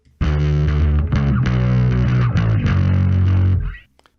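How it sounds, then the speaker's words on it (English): Distorted bass guitar plays a riff, loud and sustained with a thick, fuzzy harmonic tone for several seconds, then stops abruptly. "Now let's listen to the bass."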